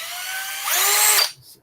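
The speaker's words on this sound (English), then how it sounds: "The best way to check these hinge pins I've found is to chuck it up in the drill at the very end." A power drill spins a chucked hinge pin, a whining motor tone that rises in pitch as it speeds up, holds briefly, then cuts off and winds down, close and alone.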